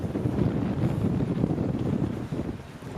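Strong wind buffets the microphone at Elwood Boat Ramp in Melbourne, Australia, producing a loud, steady low roar with gusty surges and no voices.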